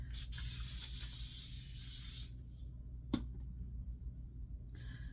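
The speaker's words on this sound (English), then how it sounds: "I'm gonna use some of this Evian spray. This is their facial spray." A long fine hissing spray of Evian facial mist runs for about two seconds up close, followed by a brief second spritz and quiet room noise.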